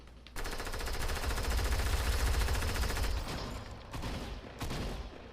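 Rapid sniper and automatic gunfire in the video game Fortnite on Nintendo Switch, a dense loud burst of shots filling most of the stretch, then trailing off into a few shorter bursts.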